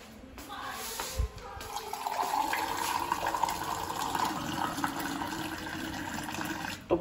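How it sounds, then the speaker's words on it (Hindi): Water runs steadily into a jug for several seconds, a continuous close splashing pour with a faint hiss. "इसमें पानी भरते हैं, आ जाओ।"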